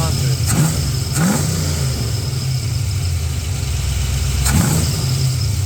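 An LS-swapped 1970 Chevrolet Nova idles with a deep, steady rumble, broken by three sharp throttle blips that rise and settle quickly, close and loud.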